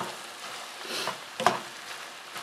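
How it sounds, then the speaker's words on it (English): Butter melts with chopped celery in a pan for keto low-carb holiday stuffing, giving a soft, steady close sizzle with a brief louder spatter midway, no voices. "So I'm going to let that butter melt."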